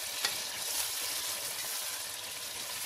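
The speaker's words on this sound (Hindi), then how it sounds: "तो यहाँ इसमें घी छोड़ दिया, ये देखें अच्छी तरह भूनिए" Mutton for karahi sizzles in ghee in a pan, a steady, dense frying hiss with faint stirring scrapes, close and continuous with no talk.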